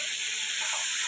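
Crab pieces fry in a hot pan for crab curry, making a close, steady, hissing sizzle that runs unbroken through a short moment.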